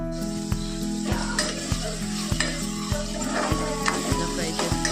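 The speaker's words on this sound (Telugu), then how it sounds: "ఈ ఆనియన్స్ని మనం ఆల్మోస్ట్ 10 minutes వరకు ఫ్రై చేసుకోవాలి" Onions frying in a pan for a chicken curry, with a loud, close, continuous sizzle and regular scraping strokes of stirring about twice a second, alone with no talk.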